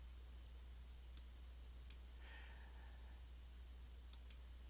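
Several crisp, isolated mouse clicks sound close and quiet over a steady electrical hum as a home folder is opened on a Fedora 21 Linux desktop.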